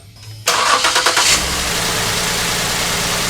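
A Ford Edge engine with a misfire cranks briefly with a rhythmic whir, then catches and settles into a loud, steady idle close by.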